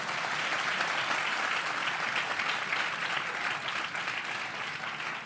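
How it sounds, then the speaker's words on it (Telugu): An audience at a gospel message claps continuously: a dense, steady wash of many hands that stays fairly loud throughout, with no talking over it. "కొట్టండి చప్పట్లో"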